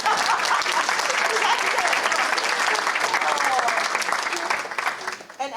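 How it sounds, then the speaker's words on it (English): An audience at a university press conference breaks into sustained applause, many hands clapping densely and loudly before it tapers off at the end. "You can clap now."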